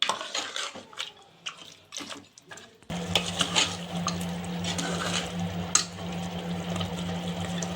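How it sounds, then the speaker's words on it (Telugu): Masala for mutton chops frying in a little water in a pan, a steady bubbling sizzle with stirring that starts abruptly partway through after a quieter stretch of scraping, close and continuous. "ఈ మసాలా అంతా పచ్చి వాసన పోయేంత వరకు ఈ నీళ్ళల్లో ఎమరనిచ్చి బాగా వేయించుకోవాలి"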